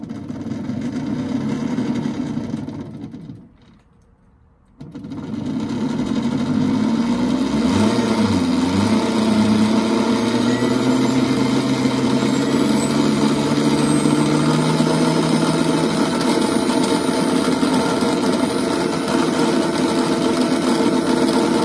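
BBSHD mid-drive e-bike motor on a 72V battery revving under throttle, a loud steady whine that drops briefly, then rises as it spins up and holds at high speed, with no talking.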